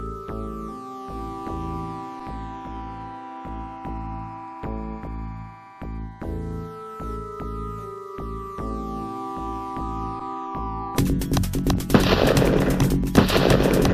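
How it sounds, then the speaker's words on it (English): Rapid, rhythmic bursts of synthesized gunfire from the retro police adventure game Police Quest 3, repeating loudly over several seconds before giving way to a noisy, harsher blast. "He shot and hit the wall right there by me."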